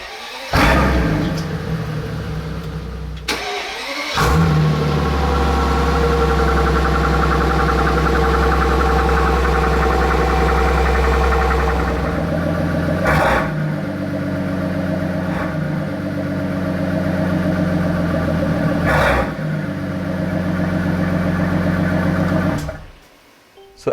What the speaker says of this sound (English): listen to the 6-liter V12 engine with 900 horsepower